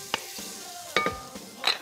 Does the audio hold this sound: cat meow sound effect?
no